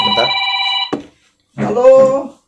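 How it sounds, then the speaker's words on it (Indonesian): A telephone rings with a sustained electronic bell tone for about a second, stops, then a voice starts talking; no other sounds besides the ring and speech. "Sorry, ada Magnus Carlsen telepon sebentar."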